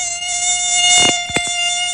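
A mosquito whines steadily and close throughout, its high thin buzz holding a constant pitch, with a couple of brief soft knocks in the background.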